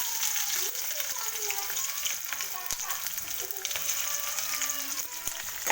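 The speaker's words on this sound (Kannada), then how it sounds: "ಇವಾಗ ಇದಕ್ಕೆ 2 ಸಣ್ಣ ಸೈಜ್ದು ಈರುಳ್ಳಿನ ಕಟ್ ಮಾಡಿ ಹಾಕೋತೀನಿ." Onions cut small sizzle and crackle steadily in hot oil in a pan for soybean gravy, a dense continuous frying hiss close by with faint stirring, no talk over it.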